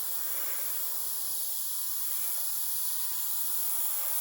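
An airbrush lays a uniform paint coat on an Italeri 1/32 F-104 model kit being prepped for a natural metal finish, giving a steady, soft, continuous hiss that runs unbroken from start to end with no voices.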